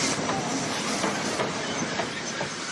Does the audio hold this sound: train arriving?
yes